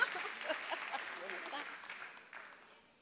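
Audience applause at an anniversary gala for a murga troupe, a quiet, fairly distant wash of clapping with voices talking over it, gradually tapering off.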